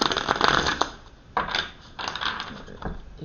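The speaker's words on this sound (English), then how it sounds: "So I'm going to shuffle the deck." A tarot card deck being shuffled by hand, giving crisp riffling bursts and papery slaps in uneven clusters, close and moderately loud, with no talking.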